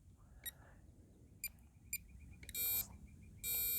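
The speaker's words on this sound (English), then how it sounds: "I got an audible warning" An E-flite RC transmitter gives a telemetry warning tone: three short, spaced beeps, then two longer, louder sustained tones near the end, with no voices.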